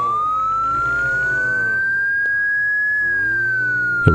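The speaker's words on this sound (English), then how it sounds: "Since I have the siren, I might as well use it, right?" A vehicle siren in Project Zomboid wails loud and steady, its tone slowly rising and falling over a low engine rumble, ending with a sharp click.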